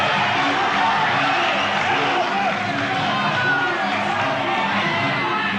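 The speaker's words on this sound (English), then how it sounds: "that brings a roar from the crowd" A big crowd roars steadily throughout a Muay Thai fight, a dense, loud, continuous wall of cheering with a commentator's voice woven in underneath.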